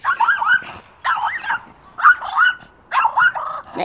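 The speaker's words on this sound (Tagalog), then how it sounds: "Tingnan yung aso, galit na galit sa akin." Dog barking angrily in four sharp bursts spaced about a second apart, close and fairly loud, each bark with a yelping edge.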